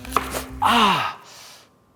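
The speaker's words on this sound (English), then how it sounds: "So I'm gonna recut my onion." A knife chops an onion on a cutting board in a home kitchen, giving a few crisp taps followed by one louder, longer slicing crunch that fades away, close and clear with no talk.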